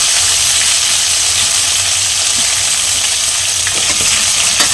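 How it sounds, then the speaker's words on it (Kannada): Mustard seeds, curry leaves, cumin and ginger garlic paste fry in hot oil with a loud, continuous hissing sizzle, close by, with a few faint crackles and stirring taps near the end and no talk. "ಇದನ್ನು ಸ್ವಲ್ಪ ಎಣ್ಣೆಯಲ್ಲಿ ಫ್ರೈ ಮಾಡ್ಕೊಳ್ಳೋಣ."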